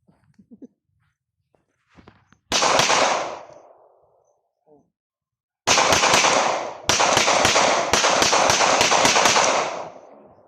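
A single loud gunshot cracks and echoes during firearm test firing, then after a pause a rapid string of shots fires in quick succession, close and sharp.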